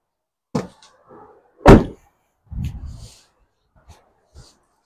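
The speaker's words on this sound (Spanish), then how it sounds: "Voy a cerrar en este momento la puerta." A car door swings shut with a single solid thump, framed by a few softer knocks and rustles in an otherwise quiet space.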